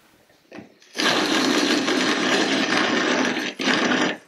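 A WonderMill electric grain mill grinds grain for bread at a coarse setting, starting with a click, then a loud steady whirring roar that dips briefly before running on and cutting off.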